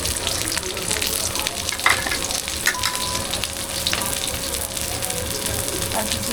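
Chopped onion, garlic and green chilli hit hot oil, giving a loud, dense, continuous sizzle with a few spoon knocks over the crackle.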